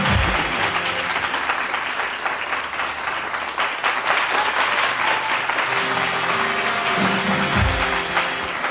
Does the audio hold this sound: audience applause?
yes